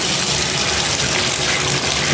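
Water gushes loudly and steadily from a hotel room faucet in an Extended Stay America room, a constant close hiss of running water with no talk over it.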